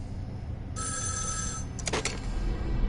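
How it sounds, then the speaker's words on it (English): A telephone bell rings in one long burst, loud and metallic over a low rumble, followed by a short clattering click as the ringing cuts off. "I think I'm gonna answer the phone."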